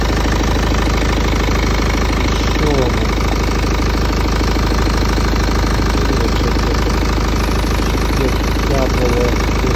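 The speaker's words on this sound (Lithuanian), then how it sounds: "Variklis dabar iš šono." A 2013 BMW X3 with a 2.0-litre 135 kW diesel engine and 309,000 km idles close by, a loud, steady, rough clattering hum that continues unbroken throughout.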